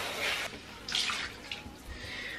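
Running water splashes over freshly bleached hair being rinsed, coming in bursts of hissing flow at close range with no talking.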